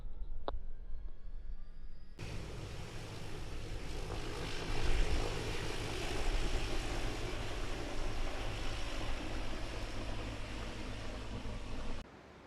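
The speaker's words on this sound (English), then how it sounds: "The engine's on tick over." A light propeller aircraft's engine runs at tick over in flight, a steady broadband drone with wind rush filling the cabin, starting abruptly after a brief quieter moment and cutting off near the end.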